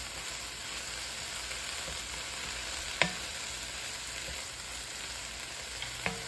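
Foraged milkweed pods fry in a fairly dry pan with butter, giving a steady, soft sizzle throughout, broken by a couple of faint clinks of stirring.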